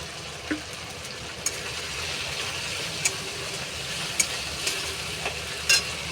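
Soy sauce hitting hot oil in a frying pan: a close, steady sizzle with a few sharp spits and clinks scattered through it.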